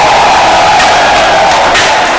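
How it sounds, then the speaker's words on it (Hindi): An audience gives a standing ovation at a company's 15-year anniversary celebration, loud, dense and continuous clapping mixed with cheers and whoops, close and filling the room. "खड़े होकर जोरदार तालियों के साथ"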